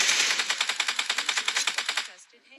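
Rapid automatic gunfire in the mobile battle royale game BGMI, a fast burst of roughly twenty evenly spaced shots over two seconds, loud and close, ending in a brief fading tail.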